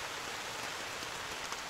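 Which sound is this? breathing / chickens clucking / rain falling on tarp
rain falling on tarp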